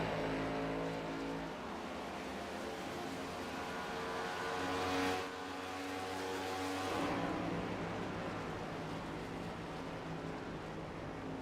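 Race cars rolling down pit road at Pocono Raceway in a racing video game, a continuous loud engine drone with shifting pitch as cars pass, a brief surge midway, no voices.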